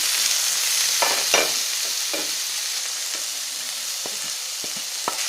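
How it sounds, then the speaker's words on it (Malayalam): Onions and shallots sauté with tomato and salt in a pan for a Kerala egg masala curry, a steady close sizzle broken by occasional scrapes and clinks of a stirring spoon. "സവാള നന്നായിട്ട് വാടി വരുമ്പോൾ തക്കാളിയും ഉപ്പും കൂടെ ചേർത്ത് കൊടുക്കാം."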